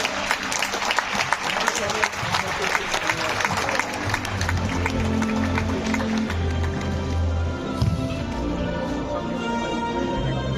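An audience applauds a hall of fame inductee at a Futsal Havířov top scorers' awards ceremony: busy, fairly close clapping that runs throughout at an even level, with some tonal hum and background sound mixed in toward the second half.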